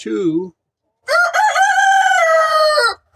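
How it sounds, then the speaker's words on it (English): A backyard rooster crows loudly and close by: a short call first, then a long, full cock-a-doodle-doo after a brief pause. "I have 7 roosters and 12 hens."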